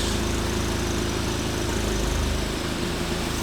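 A Volkswagen Mk7 Golf R idles with a steady low, even hum and faint vibration, holding constant throughout with no voices.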